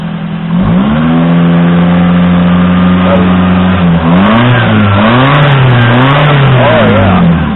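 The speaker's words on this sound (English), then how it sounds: "Back to the engine. Let's see if it's toning down when we get a little gas." A 1989 Toyota Corolla with an automatic transmission and a choke fault idles loudly up close, then its engine is revved with throttle in several rising and falling surges, the pitch climbing and dropping repeatedly.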